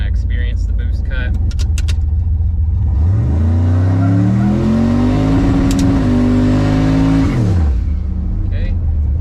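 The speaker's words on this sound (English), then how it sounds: "I'm just going to warm the tires up a little bit, and I am going to open up the exhaust dump" A car with its exhaust dump open revs hard to warm the tires, the engine note climbing, holding high for several seconds and then falling back, loud and close.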